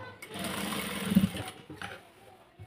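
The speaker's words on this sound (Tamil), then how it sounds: "கீழே இப்போ நம்ம மடித்து தைக்க போகிறோம்" Sewing machine stitching a folded two-inch hem along the bottom of a store-bought nightie, a steady mechanical whirr that runs for a couple of seconds before trailing off, fairly close and moderately loud.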